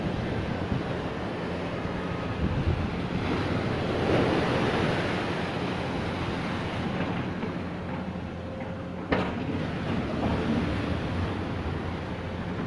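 Sea surf surging steadily onto an eroded, sand-stripped beach at Huanchaco, with broadband wash and wind noise throughout and a sharp gust or bump near the end, no voices.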